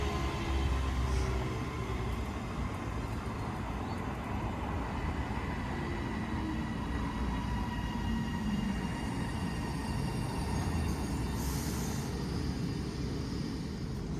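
Class 397 unit 397-007, running from Liverpool Lime Street, departs Motherwell station for Glasgow Central with a steady, loud rumble of wheels and traction that holds evenly throughout, with no one speaking.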